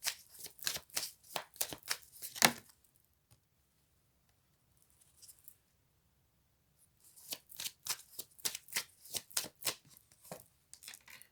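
A deck of tarot-style cards is shuffled in two bursts of rapid riffling flutters, close and crisp, with a quiet pause between them and no talking.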